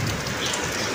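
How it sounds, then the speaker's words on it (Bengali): Heavy daytime rain pours down steadily, a dense, even wash of drops close by with no voices. "কত জোরে বৃষ্টি হচ্ছে"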